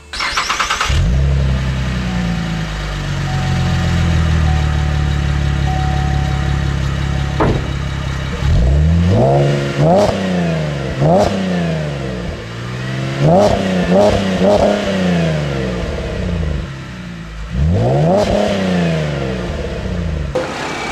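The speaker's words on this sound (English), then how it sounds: "let's show you guys an exhaust clip really quick" A 2011 Chevrolet Camaro 1LT V6 starts and idles with a deep exhaust rumble, then revs sharply several times in bursts, loud and close.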